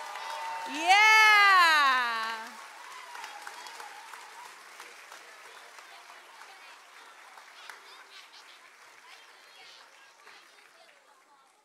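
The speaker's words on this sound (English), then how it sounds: "I think we need to give them a big old round of applause." After a 1st and 2nd grade school musical, a loud voice whoops a rising cheer. Lighter, scattered clapping from the audience then carries on steadily underneath.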